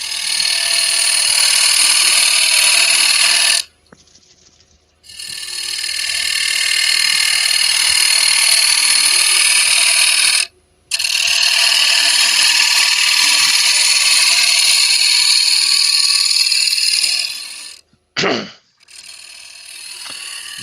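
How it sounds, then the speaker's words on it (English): A small bowl gouge cuts a tenon on a square dish blank spinning on a wood lathe, giving a loud, steady scraping hiss in long runs broken by a few short pauses, with no talk over it. "going on to my small bowl gouge, and I'll start doing the tenon"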